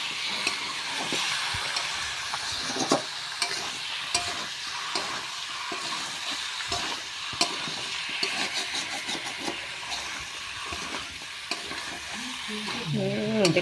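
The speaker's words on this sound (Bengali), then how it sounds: "দিয়ে দিলাম একটু লঙ্কা পাউডার, দিয়ে দেবো স্বাদ মতো লবণ, দিয়ে সেটাকে এবার একটু নাড়িয়ে নিতে হবে।" Chicken skin fries with turmeric, chilli powder and salt while being stirred in a pan, a steady close sizzle under regular scraping strokes of a spatula, with no one talking.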